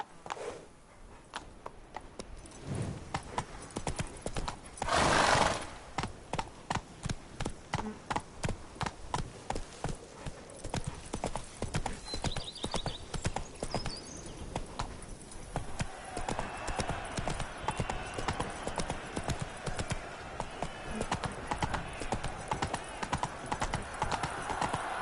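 Roach, a horse in The Witcher 3, galloping: rapid, rhythmic hoofbeats drum steadily for most of the stretch, with a brief whinny early on and faint game ambience underneath.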